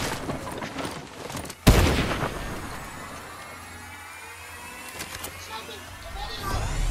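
A single sharp sniper rifle shot in the Fortnite video game rings out loud and close, followed by a fading echo, with game ambience and voices talking around it.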